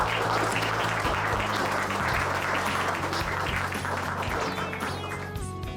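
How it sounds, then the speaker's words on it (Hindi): An audience at a company event applauds as the founder and CEO of Ezeepay walks on stage, dense continuous clapping from a crowd, loud and close, slowly thinning toward the end. "जोरदार तालियों के स्वागत करते हैं इजी पे के founder and CEO mister Shams Tabrez का"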